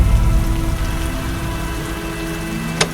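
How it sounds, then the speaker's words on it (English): Heavy rain pours down steadily and loudly across a dark, storm-soaked summer of 1816, a dense continuous roar with a brief sharper spatter near the end. "Rain pounds for days without end."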